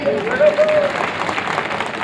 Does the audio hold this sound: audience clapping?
yes